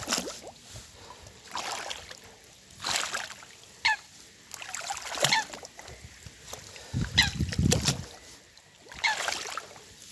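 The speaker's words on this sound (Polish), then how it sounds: "a tu słychać jakąś ptaszynę" A bird calls near lakeside reeds during a fishing outing. The short chirps come and go over a few seconds against outdoor background noise, with a low rumbling splash partway through.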